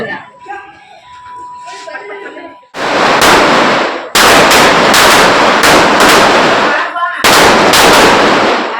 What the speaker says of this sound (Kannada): ಹಚ್ಚಿದ್ರೆ ಪಟಾಕಿ ಡಮ್ ಅಂತೀವಲ್ಲ